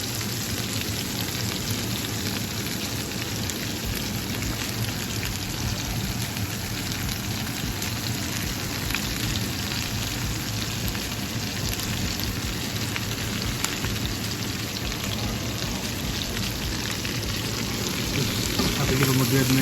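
Onions, garlic and mushrooms sauté in a pan, a constant dense hiss of sizzling that stays even and close for the whole stretch, with faint talk underneath.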